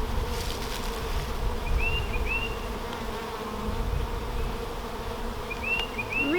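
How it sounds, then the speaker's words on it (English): Honey bees buzz inside a hive during a spring inspection, a continuous close drone with individual bees zipping past at moments and occasional faint handling noises, no voices. "There's still a pretty decent amount of bees down here."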